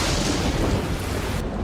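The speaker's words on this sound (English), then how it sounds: "You think this bit of rain had put it out? Bit of rain? It's practically a tsunami." Heavy rain pours down in a dense, loud, unbroken roar of hissing water, with a low, rumbling undertone like distant thunder.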